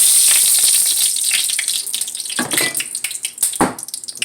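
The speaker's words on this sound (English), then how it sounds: "put some oil in the pot" Oil going into a very hot cooking pot for frying fish with jerk sauce, a steady hiss and sizzle with bursts of crackling spatter near the end, close and fairly loud, no talking.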